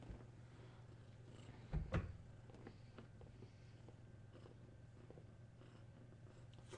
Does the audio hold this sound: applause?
no